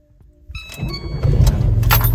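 A VAZ 21099 car with a starting fault attempts to start: a brief faint click and rattle, then the engine cranks and catches into a loud, steady low rumble close by, alone without talk.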